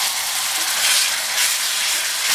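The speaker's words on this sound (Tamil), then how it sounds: "இந்த வெங்காயம் கொஞ்சம் வதங்கட்டும்" Ground small onions sautéing in a pan for a Tamil vazhaikkai (raw banana) kara kuzhambu: a steady, close frying sizzle that holds through the whole stretch, with no talking.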